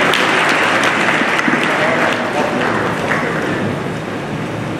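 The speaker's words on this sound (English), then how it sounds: "Please, I want you to put a hand of applause for him." A large audience at a university convocation lecture bursts into sustained, loud applause for the chairman, a thick continuous wash of clapping that holds for the whole stretch with no speech over it.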